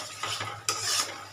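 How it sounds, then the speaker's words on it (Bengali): Masala with a little fresh cream for a cauliflower kofta gravy is stirred and fried in a pan, with a soft sizzle and a few distinct spoon scrapes over a short stretch. "এবার দেখো আমার মশলাটা সুন্দরভাবে কষানো হয়ে যাচ্ছে।"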